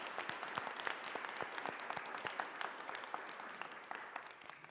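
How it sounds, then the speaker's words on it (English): Crowd applause for attendees at the close of a uterine fibroids legislative event, many hands clapping at moderate distance, sustained and fairly even, fading slightly toward the end. "one last round of applause also for all of our attendees"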